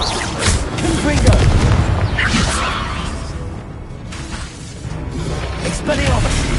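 Confringo blasting spell from Hogwarts Legacy bursting with a loud boom and crashing whoosh, followed by further rumbling impacts, while a voice speaks over the game sounds.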